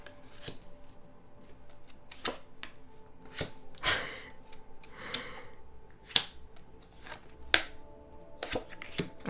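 Tarot cards being handled and pulled from a deck, with sharp snapping flicks and soft shuffling slides scattered irregularly across a quiet background, close and fairly faint.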